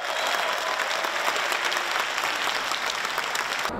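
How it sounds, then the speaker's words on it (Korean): Enthusiastic cheering and sustained applause from an audience at the Gangneung World Choir Games, a dense steady wash of clapping that continues throughout, filling the hall. "열렬한 환호가 이어지고"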